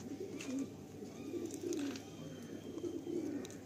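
Madrasi pigeons coo at a loft in light rain, soft repeated low coos that rise and fall in steady waves over a constant background hiss.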